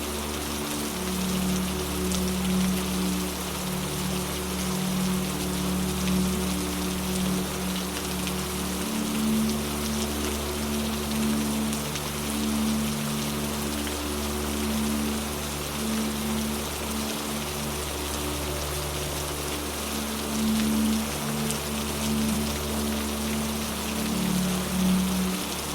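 Steady rain falling in a constant dense hiss of drops, continuous and even for the whole stretch, with a low sustained musical drone underneath and no voices.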